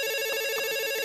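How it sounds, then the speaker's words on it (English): A telephone rings steadily and evenly for a moment, with a bright tonal electronic chime and no voices. "Seth, it does sound like we're getting a phone call."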